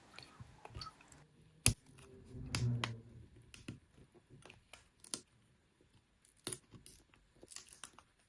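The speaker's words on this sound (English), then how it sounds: "once the glue is released, we will pull out the back panel" The back panel of a Samsung J6 phone is pried off after its glue is released, with scattered faint clicks, a sharp snap and soft scraping and peeling noises close by.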